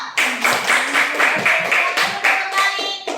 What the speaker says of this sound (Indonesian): sekarang beri tepuk tangan untuk kelompok 1 ya